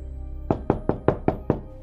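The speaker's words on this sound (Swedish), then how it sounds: "Det knackar hårt på hotelldörren." Hard knocking on a hotel room door in Koh Lanta, Thailand: six loud, sharp knocks at a quick, even pace after a brief quiet lead-in, close and alone.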